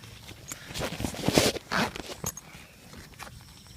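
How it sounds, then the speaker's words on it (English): Zipper on a pocket of an REI Lookout 40 backpack being tugged open one-handed in short, scratchy bursts, close by, with a few rustling pulls and brief pauses between. "it has a really crummy zipper, so you have to try to pull this open"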